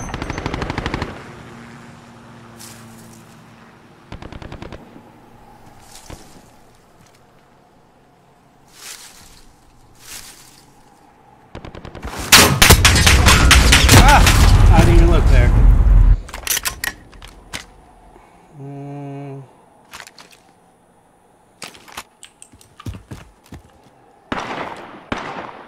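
Gunfire in the video game Call of Duty Modern Warfare comes as a loud, dense burst in the middle of the stretch, with scattered sharper shots and quieter game sounds before and after.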